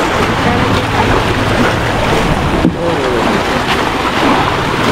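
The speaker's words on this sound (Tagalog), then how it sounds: "Oh, medyo maalon nga guys." Rough, choppy sea surrounds a small boat heading out toward Burias Island, with continuous loud wave wash and wind buffeting the microphone, and one brief sharp thump partway through.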